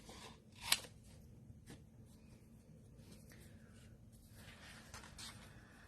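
Paper being fussy cut by hand with scissors for a stamped card project, a sharp snip near the start followed by quiet, sporadic cutting sounds in a still room.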